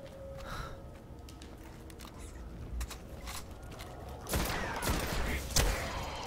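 A scout rifle fires in the Destiny beta in scattered sharp cracks amid an ongoing firefight, moderately loud, with a denser burst of gunfire and impacts toward the end.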